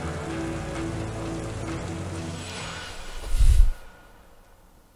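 Heavy rain pours down in a point-and-click adventure game, a dense steady hiss of downpour with a low musical drone underneath, swelling to a brief louder gust before dropping quieter.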